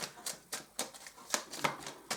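Tarot card flipped and handled on a table, a series of soft, quick paper flicks and slides at a near, quiet level, roughly evenly spaced.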